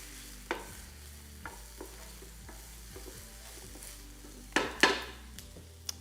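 Onions sweating in oil in a medium to large saucepan, a quiet steady sizzle with light utensil clinks and a louder clatter of stirring near the end.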